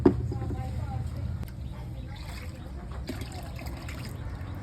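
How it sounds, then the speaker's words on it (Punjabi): Water is poured into the container of a sardai (thandai) making machine to rinse out leftover residue, giving a steady, continuous trickling splash at close range for several seconds with faint voices in the background. "ਬਾਕੀ ਜਿਹੜਾ ਥੋੜਾ ਬਹੁਤਾ ਲੱਗਾ ਵਿੱਚ ਰਹਿ ਜਾਂਦਾ ਇਹਦੇ ਵਿੱਚ ਫਿਰ ਪਾਣੀ ਪਾ ਦਾਂਗੇ"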